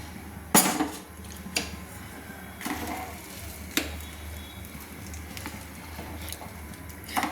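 A spoon stirs rice payesh in a cooking pot, knocking and scraping against the metal in irregular, fairly close clinks spaced a second or so apart over a low background hiss, without talk.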